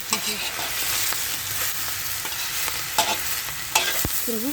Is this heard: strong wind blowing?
no